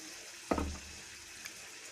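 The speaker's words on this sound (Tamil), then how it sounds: "இதில் புளி தண்ணி வந்து ஆட் பண்ணிட்டேன்." Tamarind water is poured into a pot of Tamil garlic gravy, making one short splashing gush of liquid that is soft and close, then followed by quiet.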